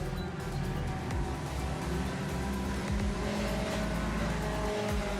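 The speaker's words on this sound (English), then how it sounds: "Coming around the outside will be Hayden Stewart in the 58 car" Speedcar engines roar and drone close by as cars sweep past at Maryborough Speedway, their pitch shifting over a constant loud motor rumble.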